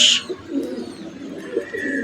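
Pigeons coo nearby, soft, low and throaty, repeating in short irregular bursts, with a brief high chirp at the start.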